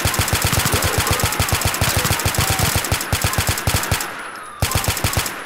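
Sustained automatic gunfire in the LCPD First Response police game hammers out as a rapid, steady stream of loud, close shots. It breaks briefly near the end, then resumes.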